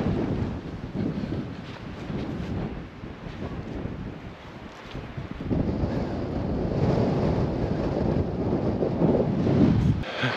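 Gusty wind buffeting the microphone on a wet Yorkshire coastal cliff walk, a continuous loud rushing roar that swells and strengthens in the second half, with no voices.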